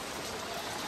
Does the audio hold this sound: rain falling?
yes